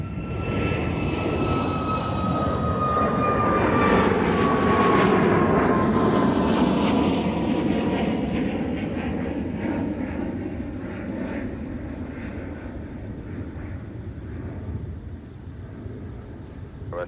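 A heavy Airbus A330 jet departing MSP airport: a loud, sustained engine roar with a whining tone that swells to a peak midway and then slowly recedes into the distance.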